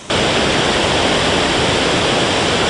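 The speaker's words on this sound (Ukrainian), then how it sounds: "справжньою перлиною урочища є Джуринський або як його ще називають Нирківський та Червоногородський водоспад" The Dzhuryn waterfall, also called the Nyrkiv or Chervonohorod waterfall, roars steadily from start to finish, a loud, dense, unbroken rush of falling water with no voices.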